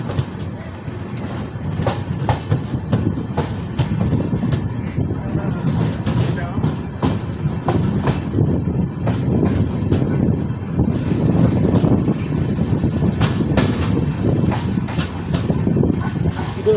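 A passenger train runs on the Belagavi to Sangli line near Ghataprabha, its loud steady rumble broken by rhythmic clickety-clack of wheels over rail joints throughout.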